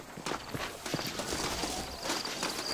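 Horse hooves clip-clop at a steady walking pace in the video game Red Dead Redemption, moderately loud, with a faint high background tone and no talking.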